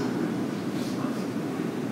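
A steady low rumble of a Chuo-Sobu Line local commuter train rolling into a station platform, continuous and fairly loud, with a broad hiss above and no voices.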